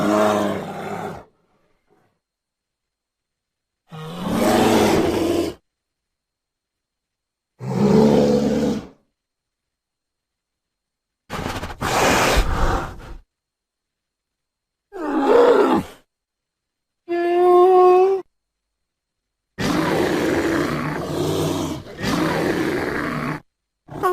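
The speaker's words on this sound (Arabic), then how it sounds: "دب أسود دب أسود بلاك بير" Black bear roaring and grunting in a series of separate deep, loud bursts, each lasting about one to two seconds with silent gaps between, one call carrying a moaning tonal quality.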